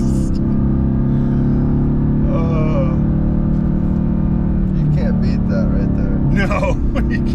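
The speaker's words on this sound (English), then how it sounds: "Sounds like a race car." A 2016 Mercedes-AMG GT S with a twin-turbo V8 rumbling steadily at idle close by, a deep constant drone under people talking.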